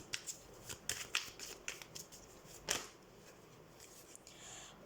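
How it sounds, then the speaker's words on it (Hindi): Tarot cards are shuffled by hand in a series of quick riffling bursts with soft flutters and slaps of the deck, close and fairly quiet, with no voices. "तो सबसे पहले हम कार्ड शफल कर लेते हैं।"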